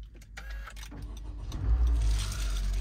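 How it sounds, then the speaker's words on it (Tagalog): A 2023 Honda BR-V 1.5 VX CVT push-button start: a brief starter crank followed by the engine catching and settling into a steady low idle, heard close up. "So ang pag-start nga pala ng push start natin, aapakan natin yung brake and kailangan yung smart key is nasa loob para magpa-start natin yung makina."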